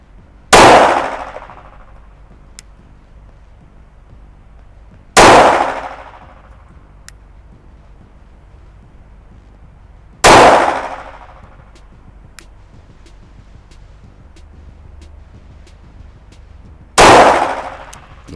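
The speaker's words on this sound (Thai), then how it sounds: "ยิงไปที่ x นะครับกึ่งกลางเลย นัดที่1นะครับ" Four loud, sharp pistol shots from a CZ P-10C fired at a target on a range, evenly spaced about five seconds apart, each with a brief echoing decay and quiet in between.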